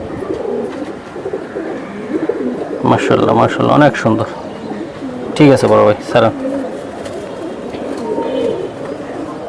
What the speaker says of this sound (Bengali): নটটা হচ্ছে লাল গিয়ারের সিলভার কবুতর